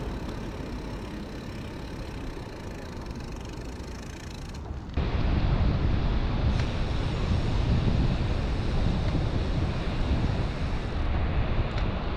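Rough wind buffets the microphone along Chodo beach on the Korean east coast, with surf rolling in beneath it; a steady broadband roar that grows noticeably louder partway through and continues without talk.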